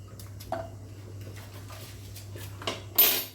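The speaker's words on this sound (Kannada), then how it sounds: "ನಾನು ಈ ಗ್ಯಾಸಿಗೆ ಒಂದು ಪ್ಯಾನ್ ಇಡ್ತೇನೆ. ಈ ಪ್ಯಾನಿಗೆ ನಾನು ಒಂದು ಅರ್ಧ ಟೇಬಲ್ ಸ್ಪೂನ್ ಅಷ್ಟು ಬಟರ್ ಹಾಕ್ತೇನೆ" A pan set down on a gas stove in a home kitchen, a few faint metallic knocks and clinks over a low steady hum, with a louder scrape near the end.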